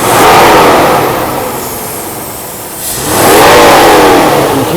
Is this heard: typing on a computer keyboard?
no